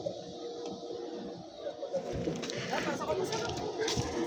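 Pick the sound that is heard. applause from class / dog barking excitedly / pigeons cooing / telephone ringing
pigeons cooing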